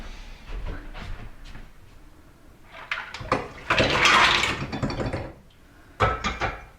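Cooked mussels poured into a colander and drained in a kitchen, a rush of splashing water and clattering shells swelling loudly in the middle, then tapering into intermittent rattles.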